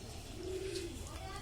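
A single short pigeon coo sounds faintly near a trap, low and soft against background noise.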